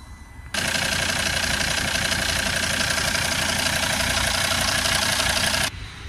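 A Volvo XC90 2.4 D5 diesel engine runs at a steady idle, loud and close, starting abruptly after a brief quiet moment and cutting back near the end, with no talk over it.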